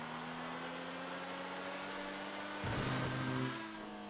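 A Bugatti Divo in the GTA 5 video game drives fast with a steady, droning engine tone that rises into a louder surge of revs near the end, carried over a constant background hiss.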